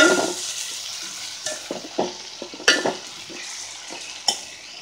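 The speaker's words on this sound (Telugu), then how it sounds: "ఇవి ఒక నిమిషం పాటు మనం ఇలా వేయించుకున్నామండి" Amaranth stems frying and being stirred in a pan, a steady sizzle with scraping stir strokes and light clinks of utensil against pan, close and alone.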